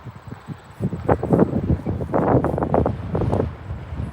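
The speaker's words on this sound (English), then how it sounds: "it's a little windy out here" Wind gusting outdoors across an open microphone, a rough, fluctuating rumble that swells and fades in uneven surges for several seconds with no other clear sound.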